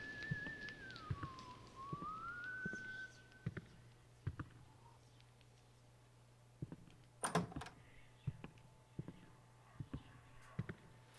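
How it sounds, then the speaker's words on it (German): An eerie melodic whistled tune from a patrolling character in the horror video game White Day on PS4 glides and wavers, moderately loud, then gives way to scattered knocks, clicks and a sharp bang. "der pfeift echt eine scheiße gruselige Musik"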